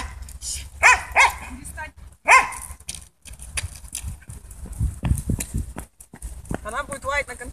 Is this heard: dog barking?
yes